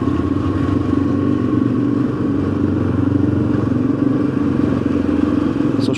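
A motorcycle cruises steadily at close range while a rider heads to the back of a park, its engine a continuous loud drone with slight revving throughout and no talk over it.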